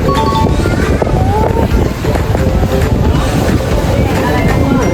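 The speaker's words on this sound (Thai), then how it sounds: "ลมแรงมากๆเลยครับ" Strong wind buffets the microphone in a loud, steady roar, with faint voices and background activity underneath.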